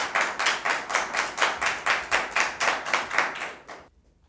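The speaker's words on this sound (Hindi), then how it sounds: "आप सबकी तालियों की गूंज में आप सबको वेलकम कहता हूँ" Steady applause from an audience at a Christmas poetry recital, a dense rhythmic wash of clapping that stops abruptly near the end, leaving near silence.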